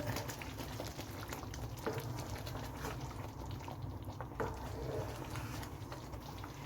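Malai chicken curry simmers in a pot with a soft, steady bubbling and popping patter, low and continuous throughout, with no voices.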